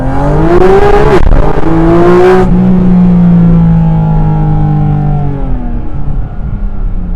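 A Porsche GT4 RS Weissach flat-six engine pulls hard and loud through the lower gears, its rising tone climbing steadily, then holding a high sustained note as the car keeps accelerating, heard from inside the cabin.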